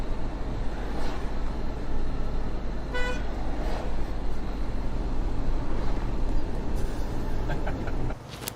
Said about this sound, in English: Where's my Toyota Home air horn?